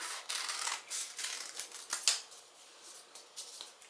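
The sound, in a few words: scissors cutting paper along a curve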